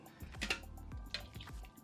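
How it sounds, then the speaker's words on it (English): Splint material being placed into warm water, giving a few soft, close drips and small liquid splashes spaced out over a quiet background. "We place this into the warm water until it softens."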